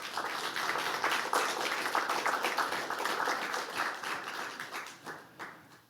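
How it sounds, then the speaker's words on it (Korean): An audience at a Korean Social Workers' Day ceremony applauds the policy chair, a dense, steady wash of many hands clapping that fades toward the end; no one speaks over it. "우리 의장님께 박수 한번."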